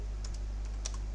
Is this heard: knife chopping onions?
no